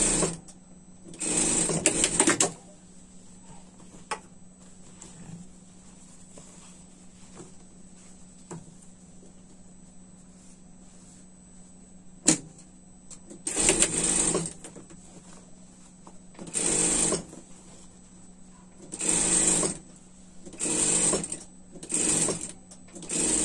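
A sewing machine stitches the hem on a winter pet dress in several bursts of rapid mechanical clatter, some short and some longer, separated by quiet pauses with a faint steady hum.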